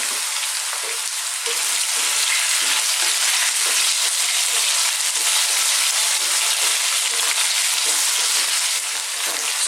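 Potatoes frying in a pan with cumin seeds and chilli, a steady loud sizzle throughout, with faint intermittent stirring scrapes and no talk.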